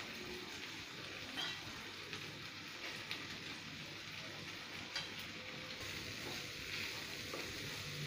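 Grated cauliflower frying in a pan for a cauliflower and wheat-flour roll, a steady soft hiss with occasional light stirring taps throughout, fairly quiet and with no talking.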